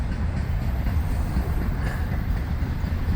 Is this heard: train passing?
yes